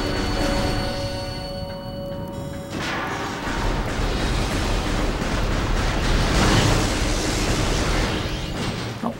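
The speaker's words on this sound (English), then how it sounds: "Found out how to use missiles." Missile blasts and booming impacts from the Metroid Prime video game, a dense stretch of loud rumbling explosions that keeps going, swelling near the middle and cutting off sharply at the end.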